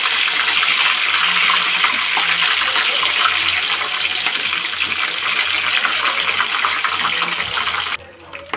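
Tap water gushes steadily and loudly into a sink while dried prawns are washed, a continuous close rush that cuts off sharply near the end.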